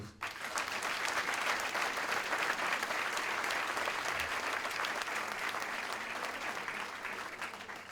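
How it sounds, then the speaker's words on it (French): Sustained, dense applause from an audience at a public meeting, loud and steady for several seconds before tapering slightly at the end. "je demande de vous applaudir"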